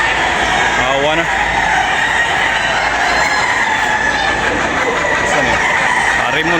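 Gamefarm crossbreed roosters crow repeatedly at a busy poultry expo, several loud crows rising over constant crowd noise and clucking, with people talking throughout.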